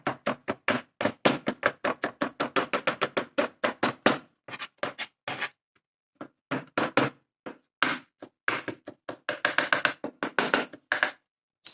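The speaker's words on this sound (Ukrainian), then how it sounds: "І перець також так нарізаю." Rapid, steady knife chopping of peppers on a board, crisp close-up strikes in quick runs with brief pauses between bursts; no talking.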